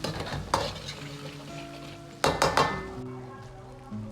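Chili oil and hotpot base stir-fried in a wok, a steady sizzle broken by bursts of scraping and clinking spatula strokes, loud and close with no voices.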